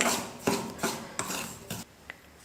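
Semolina (rava) dry-roasting in a pan on a low stove flame, stirred with a utensil: a series of scraping, rasping strokes against the metal, each a short burst, close and moderately loud, with no talk.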